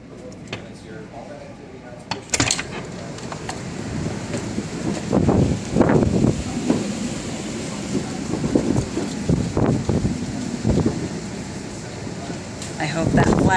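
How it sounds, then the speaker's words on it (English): Strong gusts during a November wind storm buffet the microphone outdoors, rising from a steady roar into repeated surging blasts with rattling bursts, continuous throughout. "Holy crap, it's getting windy."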